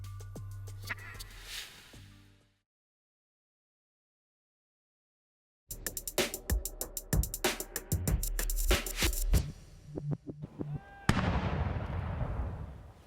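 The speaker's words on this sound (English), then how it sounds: "A 41-gun salute from the British Armed Forces to kick off a royal birthday celebration." Ceremonial artillery fires a 41-gun salute by the British Armed Forces for Prince Charles's 70th birthday, heard as dense runs of sharp booming reports that stop briefly and then resume, loud and echoing outdoors.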